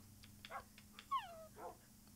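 Small dogs in a breeding video game whimper and yip faintly, a few short high whines and yelps scattered over a low hum.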